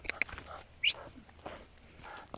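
An agitated Akita, a hunting breed, whimpers and yelps in short, irregular bursts. The sounds are faint against outdoor background noise, with light movement between them.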